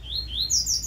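A male double-collared seedeater (coleiro) sings alone, a string of bright, rising chirped notes in quick succession that grow louder toward the end of the short phrase.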